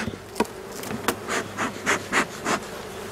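Honey bees buzz around an opened beehive after a swarm, their drone swelling in several rhythmic pulses close by, preceded by a few sharp wooden knocks and no voices.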